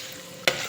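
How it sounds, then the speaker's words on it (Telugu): Chicken gets stirred in a frying pan with a soft sizzle underneath, then a single sharp scrape or clatter of the utensil near the end of the brief moment. "ఇలా చికెన్ అంతా వేసుకున్న తర్వాత మనం అంతా కలుపుకోవాలండి"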